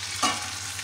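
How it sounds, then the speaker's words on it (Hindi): Butter melting into a pot of dal, with a short burst of sizzle and stirring near the start before it settles into a low, steady hiss. "अभी और मक्खन डालेंगे इसके अंदर"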